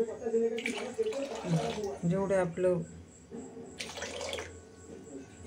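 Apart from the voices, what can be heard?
water being poured into flour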